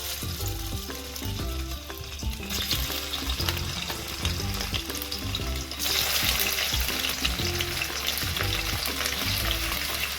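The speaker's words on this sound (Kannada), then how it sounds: "ಇದನ್ನು ಫ್ರೈ ಮಾಡ್ಕೊಳ್ಳಿ, ರೋಸ್ಟ್ ಮಾಡಿ." Paneer frying in oil in a home kitchen pan for paneer masala, a steady bright sizzle with stirring clinks and scrapes, growing louder and denser midway.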